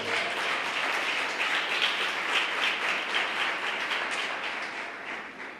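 A church congregation applauds the Lord during a sermon on Daniel, producing steady, dense clapping that fills the room evenly, then tapers slightly near the end.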